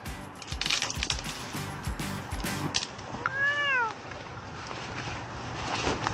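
A frightened cat lets out a single clear, rising-and-falling meow midway through, with rustling and handling noises and faint talk around it.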